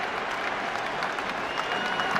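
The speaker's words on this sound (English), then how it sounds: "The crowd urging him on." Baseball stadium crowd at a Red Sox–Blue Jays game in Toronto cheering and applauding steadily, a dense, sustained roar of claps and voices with no clear break throughout.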